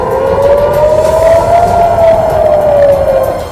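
Air raid warning sirens in Tel Aviv wail in a steady, loud rising and falling tone that fills the whole stretch, with no voices over it.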